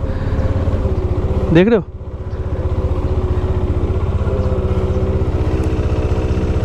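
A motorcycle on a mountain ride idles and runs steadily up close, with a continuous low engine drone under a repeated humming rattle from a loose part. Someone speaks briefly over it.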